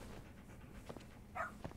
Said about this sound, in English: The detective dog.